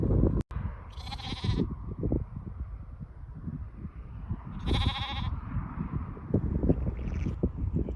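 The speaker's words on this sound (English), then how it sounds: "Family of sheep." Sheep bleating in the countryside at Widecombe on a quiet evening, three separate bleats spaced a few seconds apart at moderate distance over a low rumble of wind.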